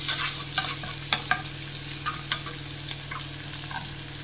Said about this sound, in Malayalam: എണ്ണ ചൂടായി അതിലേക്ക് നമുക്ക് അരിഞ്ഞ് വെച്ചിരിക്കുന്ന വെളുത്തുള്ളി ചേർത്ത് കൊടുക്കാം.